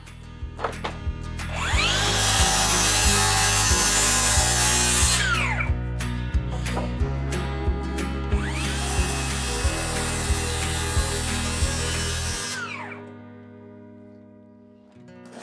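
A power saw cuts wood backing pieces during the renovation of a 100-year-old house. It makes two long, loud, whining cuts with a rumbling motor underneath, then winds down to a low hum and stops.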